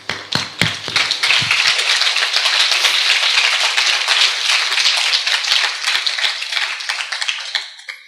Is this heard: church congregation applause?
yes